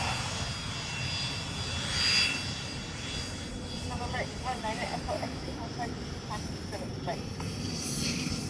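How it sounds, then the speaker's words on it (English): Engines of a C-17 military transport aircraft at Hickam Air Force Base drone steadily at a moderate distance, swelling briefly, with people talking over the sound. "this is a C-17 that is based here at Hickam Air Force Base"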